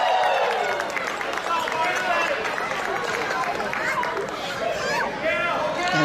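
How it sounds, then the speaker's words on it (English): A wrestling audience roars and claps for the Kansas City champion at a KCXW show. The crowd noise is a continuous, busy swell of cheers, chatter and scattered clapping that stays loud the whole time. "crowd roaring right along with their KC champion"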